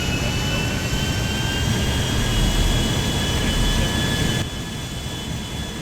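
Loud, steady jet engine roar of a Boeing 737 Max 900 in the GTA FiveM game, with thin high whines over a low rumble, dropping slightly in level near the end.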